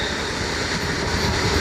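A high-speed rail train passes close by with a steady, loud rushing rumble. No one speaks.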